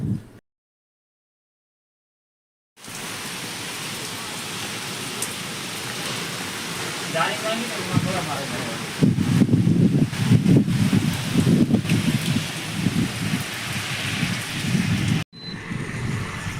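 Rain falls steadily on an open farm field where groundnuts were just sown, a continuous close hiss that thickens into heavier, denser patter partway through, with a short dead-quiet gap near the start and light wind buffeting.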